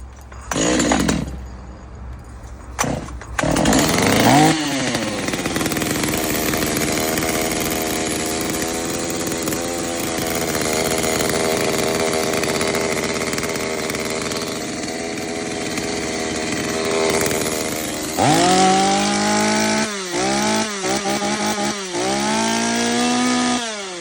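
A Kraissman 250 petrol chainsaw starts after a few pulls, then idles and runs with a loud, steady buzzing drone, ending in several sharp throttle revs up close.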